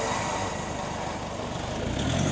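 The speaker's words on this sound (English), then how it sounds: "Burn out." A car doing a burnout, tyres spinning and smoking, gives a steady, loud roar of engine and tyre noise that holds without a break for the whole stretch, with no voices over it.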